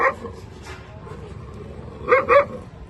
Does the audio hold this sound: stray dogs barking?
yes